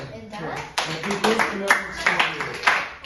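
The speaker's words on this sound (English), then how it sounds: "Claps." A few people clap in a classroom during a social studies lesson. The claps come as separate, uneven sharp hits close by, mixed with a voice talking over them.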